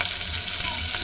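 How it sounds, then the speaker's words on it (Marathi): Chopped onion sizzles hard in hot oil for a mutton curry tempering, a dense, steady frying hiss close by. "सर्वात पहिलं तर आपण आता टाकू कांदा."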